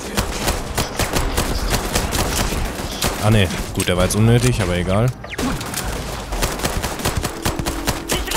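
Rapid bursts of sci-fi gunfire from the video game Starfield crackle steadily throughout, with someone talking over the shooting partway through.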